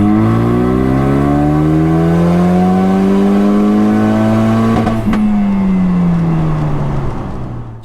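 A Ford EcoBoost Ranger truck engine pulls hard in third gear, a loud, steady rising drone climbing toward 2500 RPM before a brief break and easing off near the end, heard alone without talk.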